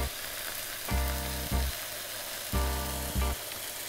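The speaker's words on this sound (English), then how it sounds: "slightly press the mushrooms a little bit harder, and you'll hear the sizzle." Two bursts of loud frying sizzle from mushrooms pressed under a pan swell up from a quieter background, each lasting about half a second, separated by brief pauses.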